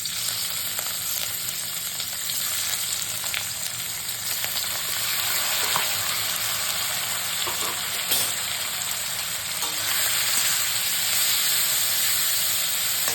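Small shrimp sizzle in hot oil with nigella seeds, a loud continuous hiss of frying with occasional stirring clicks, close and steady, rising slightly toward the end.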